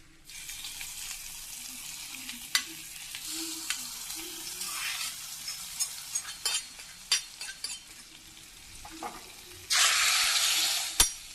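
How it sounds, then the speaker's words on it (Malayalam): Hot tempering poured into an Angamaly-style mango curry sizzles and crackles, with scattered pops and stirring knocks, then a sudden loud burst of hissing near the end. "ഇനി നമുക്കിത് ഈ വറവൽ ഇതിലേക്ക് ഇട്ട് കൊടുക്കാം."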